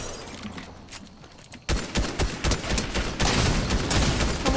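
Fortnite gunfire erupting after a quieter opening, a run of rapid close shots with sharp repeated cracks, growing denser and louder toward the end.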